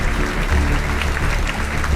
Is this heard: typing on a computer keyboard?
no